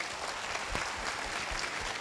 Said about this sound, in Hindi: तो मैं इन डायरेक्टरों के लिए मैं चाहूंगा जबरदस्त तालियां होनी चाहिए।